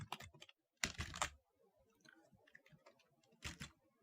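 Quiet clicking of a computer keyboard while Python code for file handling is typed, a few short bursts of keystrokes with pauses between them.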